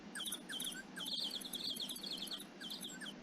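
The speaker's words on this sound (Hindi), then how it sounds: "पक्षियों के बोलने की ध्वनियां" Small birds chirp rapidly and continuously at close range, with high twittering calls overlapping in a bright, steady chorus.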